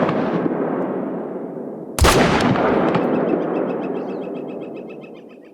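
Rifle shots in theHunter: Call of the Wild during a mule deer hunt ring out over ambient wilderness noise, with one loud close report and a long echoing tail, plus a softer earlier crack.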